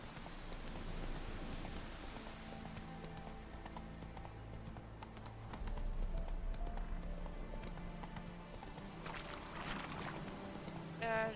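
Horse hooves clip-clop steadily while riding in The Witcher 3: Blood and Wine, a continuous rhythmic trot at moderate volume over light rain and ambient game sound.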